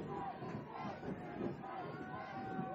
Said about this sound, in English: And the Justin-Siena crowd now getting into it.